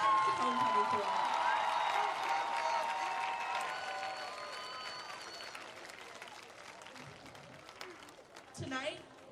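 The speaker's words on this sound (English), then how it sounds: "Please join me in giving a round of applause to our Glynn Academy homecoming choir." A crowd at a Glynn Academy homecoming event applauds the school's homecoming choir, with sustained clapping and some cheering and whistles that slowly taper off. Brief louder noise comes near the end.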